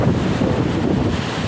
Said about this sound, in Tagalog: Pag ito mabaskog ang hangin.